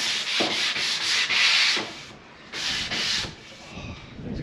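Foam rubbing block scraping back and forth across a surface by hand, a steady rasping hiss in several long strokes with brief pauses, close and fairly loud with no talking.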